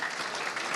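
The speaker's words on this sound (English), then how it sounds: "one more round of applause" A brief burst of audience applause at a conference, dense and steady clapping from a crowd lasting under a second.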